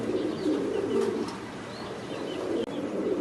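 Pigeons on a pigeon farm coo in a steady low murmur, with faint chirps over a constant close background.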